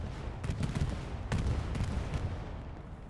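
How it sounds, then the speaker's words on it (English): A Chimera team's bombing run in a World War II tank-battle match beside a Panzer IV, heard as a dense rumble of explosions and gunfire with sharp bursts, loud and continuous for the whole stretch. "Bombing run coming in. That is a Chimera bombing run."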